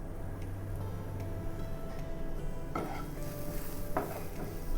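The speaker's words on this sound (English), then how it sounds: "Saute for a minute." Spinach and cheese omelette mixture seasoned with chili powder and crushed pepper sautés in a pan, a soft steady sizzle with occasional spatula scrapes and light clinks against the pan.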